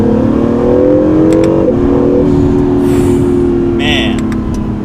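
An Acura NSX in Sport Plus mode downshifts and accelerates, its engine note droning loud and close with a brief shift in pitch partway through, the sound of the car dominating throughout.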